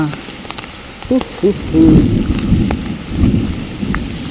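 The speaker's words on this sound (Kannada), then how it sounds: "ಜೋರು ಮಳೆ ಅಣ್ಣ." Heavy rain pours during a storm at an outdoor fishing spot, a dense hiss under deep rolling thunder rumbles, with brief voices breaking through near the middle.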